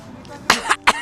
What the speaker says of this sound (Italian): È una tosse particolare il bolsega, non è quella tosse secca.